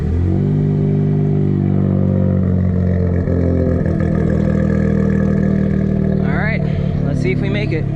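A Suzuki Cappuccino's small engine hums steadily at a constant idle, loud and droning with strong low harmonics, waiting for an alternator replacement. Near the end, brief chirping squeals rise over the engine.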